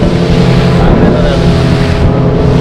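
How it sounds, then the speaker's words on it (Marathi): Fishing boat with twin engines running at speed on the open sea off Devbag, a loud steady engine drone with rushing wind and water noise throughout. "डबल इंजिन डायरेक्ट स्पीड बघताय सुसाट"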